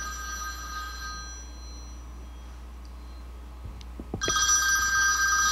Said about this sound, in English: Go ahead and answer this call.